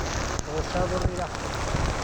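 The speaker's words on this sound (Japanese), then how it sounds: "土砂降りだ" Heavy downpour of rain at a temple and rice terrace area in Bali, a dense, steady hiss of drops on surfaces with a few louder close impacts, and a voice speaking briefly over it.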